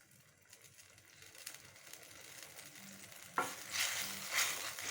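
Thickening tamarind water with salt bubbles and sizzles softly in a pan while a spoon stirs it, quiet scraping strokes growing busier toward the end, with no talk.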